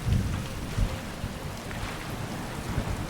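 Steady rain pours with low rumbles of thunder in a wet outdoor scene in the video game Skyrim, a continuous hiss with deeper booming swells underneath.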